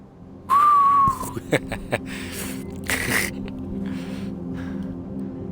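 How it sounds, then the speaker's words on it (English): Thin, high whistling tone in one ear as an audio drama effect, a single sustained whistle lasting about half a second, followed by scattered clicks, breaths and faint rustling against a low hum. "You hear whistles in one ear."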